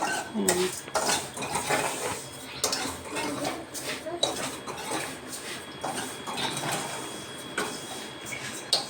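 Dry-roasting raisins and cashews in a pan for vermicelli payasam, with a spoon scraping and clinking against the metal in a steady irregular clatter at close range, with brief voices in the background.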